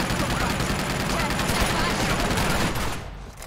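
Machine gun fire in the video game Uncharted 2: Among Thieves, a dense, loud, continuous roar of automatic gunfire and overlapping shots that cuts out abruptly near the end.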